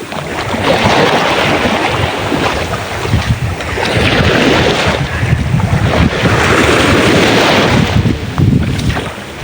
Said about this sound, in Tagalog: Nalaki na. Nalaki ng alon.